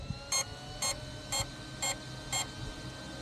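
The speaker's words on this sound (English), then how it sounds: "Hear the 6 beeps." The electronic speed controller in a Traxxas Slash 4x4 RC car, with a Castle 1600kV motor on 6S power, gives a series of short, evenly spaced electronic beeps, about five distinct tones heard clearly over quiet background hum.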